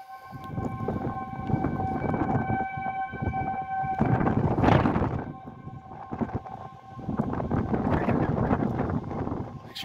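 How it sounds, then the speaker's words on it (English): Tornado sirens wail in the distance, a steady sustained tone beneath loud gusting wind that roars across the microphone in waves. "Sirens are still going."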